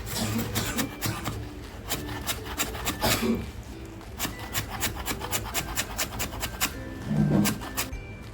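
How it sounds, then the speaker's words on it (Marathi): Knife chopping fresh coriander with its stems finely on a board, a fast irregular train of crisp close taps with rough scraping between strokes, loud and steady without speech. "कोथंबीर आहे ना दांडांसह घेतलेली आहे आणि आता ही बारीक कापून घेते आहे"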